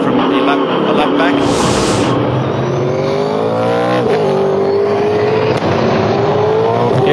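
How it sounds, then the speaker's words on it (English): Onboard engine of a 2011 V8 Supercar racing at Abu Dhabi, a loud, continuous roar with rising and falling pitch through gear changes, heard close up beneath commentators talking throughout. "So this is the onboard with Paul Dumbrell down at turn 11 from a lap back."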